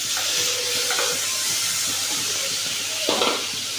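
Crushed onion dropped into hot oil in a pan for egg curry, giving a steady broadband sizzle with brief bursts of stirring and spatter, close and continuous with no voices.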